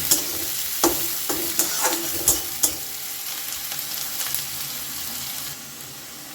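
Chopped onion fries in a pan for an egg tadka, hissing steadily up close while sharp knocks of a spoon or spatula against the pan punctuate the sizzle every half second or so.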